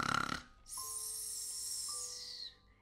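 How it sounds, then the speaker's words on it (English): A Roblox character snores in a cartoonish way, a single long rasping intake followed by a high whistling exhale, moderately loud and alone. "And she snores way too loud."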